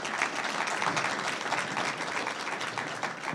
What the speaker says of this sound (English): if we give them a quick round of applause